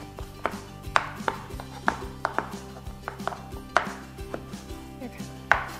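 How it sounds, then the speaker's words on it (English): Knife coarsely chopping soaked ingredients for Mexican cornbread on a cutting board, a steady run of close, rapid thuds at an uneven rhythm, with no talking. "we're just gonna kinda coarsely chop this up as well"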